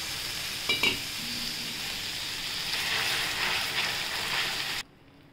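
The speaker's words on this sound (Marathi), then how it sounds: "2 कप दूध घेतले, ते थोडं टाकायचं।" Milk poured into hot caramel sets off a loud, steady sizzle and bubbling hiss with a couple of brief clinks near the start, continuing for several seconds before cutting off abruptly.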